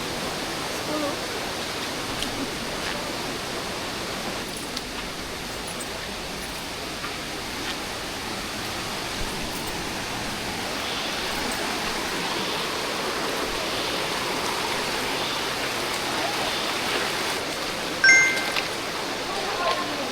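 Steady broadband rush of a river stream flowing along a jungle trek toward Curug Cisadane waterfall, constant and full throughout, with a brief louder splash near the end.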